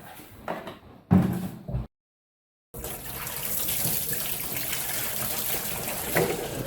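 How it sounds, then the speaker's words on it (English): A hot water tap runs steadily, a constant rushing of water into a sink holding detergent after a few brief knocks and a short pause. "hot water."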